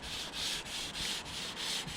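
Primer being block sanded on the body of a 1968 Buick Skylark convertible, heard as close, rhythmic abrasive back-and-forth strokes, about six even passes in quick succession, with no voices.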